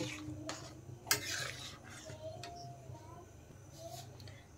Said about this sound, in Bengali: এখন মশলার সাথে কিন্তু ভালোভাবে মিশিয়ে দেব আমি